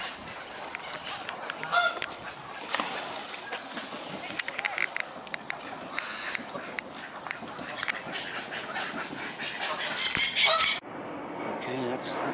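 A noisy crowd of Canada geese honking repeatedly near and far, mixed with swans, ducks and other waterfowl calls and a person talking in the background.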